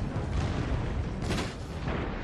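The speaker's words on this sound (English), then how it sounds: "And what are those mortars even firing?" Mortars and rockets fire in the Empire: Total War battle, a dense, rumbling barrage of booms rolling on continuously for a couple of seconds, with one sharper crack standing out midway.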